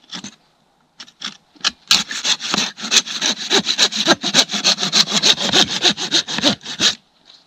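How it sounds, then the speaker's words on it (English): A hand saw cuts through firewood outdoors in the snowy Utah mountains with rapid, rhythmic rasping strokes, close and loud, after a few hesitant starting scrapes. "do some more sawing"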